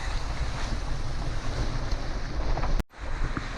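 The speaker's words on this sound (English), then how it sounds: "Northwesterly wind. About a metre swell." Strong northwesterly wind and roughly a metre of sea swell while sailing off Tasmania's east coast near Schouten Island, a loud continuous rush of wind noise and water with a brief dropout near the end.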